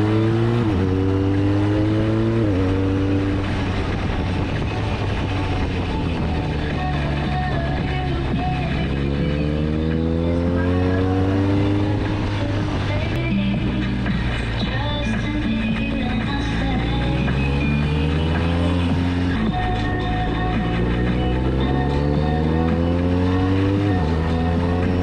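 A 2021 BMW R 1250 RT touring motorcycle's boxer engine pulls through repeated accelerations, rising revs and gear changes, loud and close throughout with steady road and wind noise and no talking.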